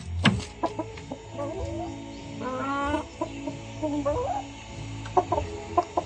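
A backyard coop hen clucks in short repeated bursts, close and fairly loud, with scattered sharper calls from other fowl and a low hum underneath.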